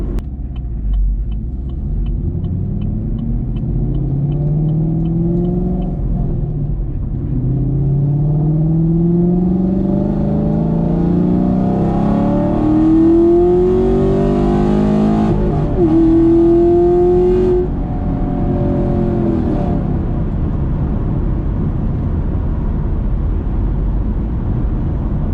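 A 2018 Camaro Gen V makes a full-throttle pull from inside the car, its engine roaring steadily louder with rising pitch through several gear shifts, then easing off; no talk.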